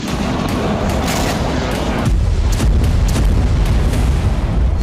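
Missile and drone explosions strike Sevastopol bay at the naval docks. A loud, continuous, rumbling roar of blasts and booms fills the air, deepening and growing heavier partway through.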